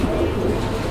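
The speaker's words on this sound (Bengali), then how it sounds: "আপনারা কবুতর দেখেন।" Pigeons coo in a brief burst, a close low throaty warble that fills the moment.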